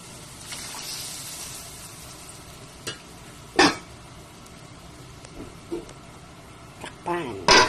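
Mung beans go into a cooking pot with a steady low sizzle and hiss, while a spoon scrapes and knocks against the pot in a few sharp clinks near the end.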